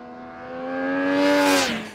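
The engine of a 2018 Triumph Speed Triple RS motorcycle revs in one smooth pull, its tone climbing steadily, holding high, then dropping off, loud and close with no talking.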